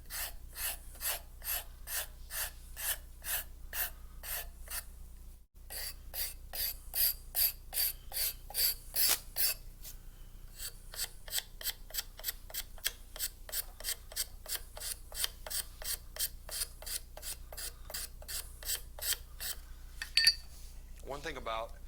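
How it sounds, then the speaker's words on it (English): A rasp and files shape a wooden cabriole leg, giving steady, rhythmic rasping strokes close by. A short pause comes near the middle before the strokes resume in an even run. "One thing about shaping with a rasp and files, you know that it gives you a nice gauge."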